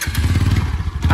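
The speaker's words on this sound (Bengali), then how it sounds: "তো স্টার্ট দাও" A modified TVS Apache RTR 4V motorcycle engine runs in a steady, close, throbbing idle with a regular low beat right after starting, without speech.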